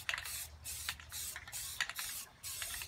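A spray can of rust primer hisses in short repeated bursts onto bare metal of a gazebo, close and steady, with brief pauses between each squirt.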